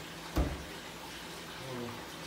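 After a pump restarts, water pours into a piranha tank with a soft, close gurgle and trickle. A brief splash or knock comes near the start. A low steady flow continues under faint background sound.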